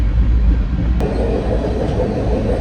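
Freight train rolling steadily along the rails during a cold-weather hop between Fort Worth and Louisiana, a loud continuous low rumble with rattling wagon noise and a brief sharp click about a second in.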